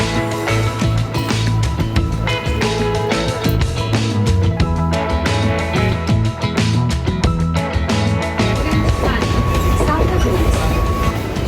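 A Mumbai local train runs with a loud, steady rumble and rattle of wheels and carriages, heard from inside the coach, with a mix of humming tones over the noise.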